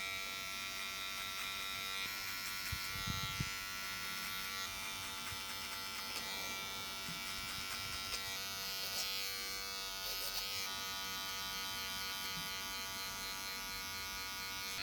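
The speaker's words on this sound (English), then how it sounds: "Finish off with your trimmers, and then your 1 comb, work that up into the 1/2." Electric hair trimmers fitted with a comb guard buzzing steadily while cutting hair during a skin taper fade, a close, constant hum with small clicks and brushing sounds.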